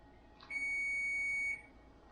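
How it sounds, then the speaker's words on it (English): A single sustained electronic beep, high and thin, lasts about a second against quiet room noise. "Timer's gone off"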